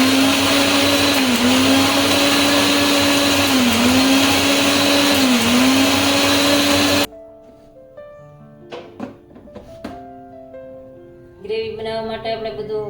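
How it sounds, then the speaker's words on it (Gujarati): An electric mixer grinder crushing masala for gravy runs with a loud, steady whine for about seven seconds, then cuts off, followed by clattering handling sounds and a brief burst near the end. "હવે આપણે મિક્સરમાં લગાવી દીધું છે"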